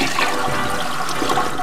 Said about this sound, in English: You just flush.